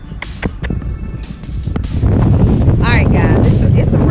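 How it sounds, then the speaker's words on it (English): Strong wind buffets a microphone outdoors during a fishing trip in Henry County, Georgia, a loud rumbling roar that thickens after the first two seconds, with faint chirping in the background. "It's too windy out here"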